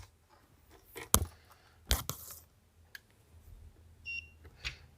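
A multimeter switched to buzzer mode gives a brief, thin electronic beep near the end, after several sharp handling clicks and taps in an otherwise quiet room.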